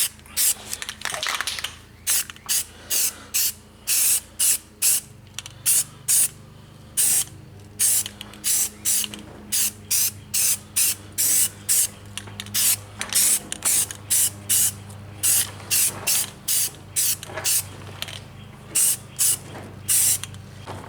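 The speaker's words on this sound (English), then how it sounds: "I want to go ahead and put a nice coat of primer on this, let it dry" Primer sprays onto a fiberglass iPad bezel in repeated sharp hissing bursts from an aerosol can, short spritzes at first and then a rapid, fairly regular run of puffs, close and loud with no talking.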